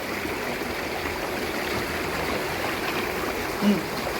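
A small waterfall and stream flowing, a steady broadband rush of water with no breaks, moderately close, plus one brief faint tonal blip near the end.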